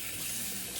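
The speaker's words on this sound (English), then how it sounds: "All right, cold water rinse." Cold water gushes steadily from a bathroom tap for a post-shave rinse, a continuous close hiss with no pauses.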